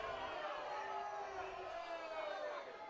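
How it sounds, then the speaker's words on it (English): Home crowd in the stands at a high school playoff football game, Nicolet at Holmen, voicing a broad steady roar of disapproval at a referee's call, sustained and fairly distant for about three seconds with no clear words. "the home crowd not a fan of the call"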